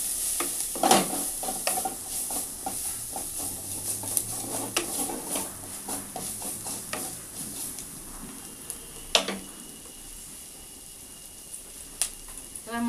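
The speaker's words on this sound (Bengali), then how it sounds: "এবার আমি নাড়াচাড়া করে নেব।" Chilli and cumin powder stirred into cabbage and fish head curry in a pan, with repeated close scrapes and light clinks of the spoon over a low sizzle, busier early and sparser later.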